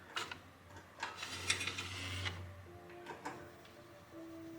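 DTF printer print head sliding back to its home position after cleaning, a soft mechanical whir with low motor hum and faint clicks, close and quiet with no talk.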